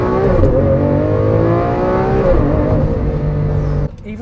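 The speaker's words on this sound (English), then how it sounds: "the way this car starts up feels like an event." A first-generation Lamborghini Aventador V12 starts up and revs, a loud, close, steady roar with rising and falling engine tones that cuts off abruptly near the end.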